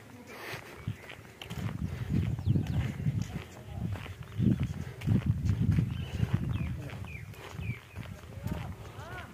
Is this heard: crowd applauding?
no